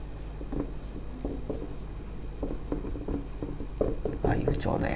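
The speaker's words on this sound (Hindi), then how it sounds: "तो विशाल यहाँ लिखते हैं" Marker or chalk scratches on a board in short, uneven strokes over a low room hum, growing busier toward the end, with faint speech around it.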